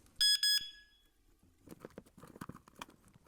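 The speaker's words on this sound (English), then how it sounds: "Now we'll add our water alarm." A battery-powered sump pump water alarm under test gives two loud, shrill electronic beeps, followed by quieter clicking and handling noises.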